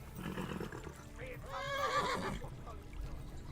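A horse whinnies loudly and nearby in Kingdom Come: Deliverance, a rising, wavering neigh over soft ambient game sound, with someone talking quietly before and after it.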